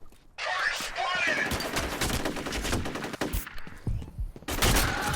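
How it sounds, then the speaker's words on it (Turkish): Enemy gunfire in the shooter game F.E.A.R., loud bursts of rapid automatic fire with separate sharp shots between them, close and continuous, with brief gaps. "Ah bu benim ayağımdan vuruyor."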